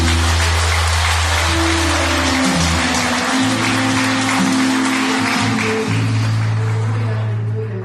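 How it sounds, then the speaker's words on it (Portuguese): Church congregation applauding during an evening worship service, a broad wash of many hands clapping over sustained organ or keyboard chords and low music, steady and full throughout. "Se você crê nisso, dá uma salva de palmas em nome de Jesus."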